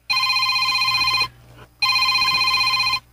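A telephone rings loudly and nearby in two long bursts separated by a brief pause, each burst a steady bright electronic trill, with no talking over it.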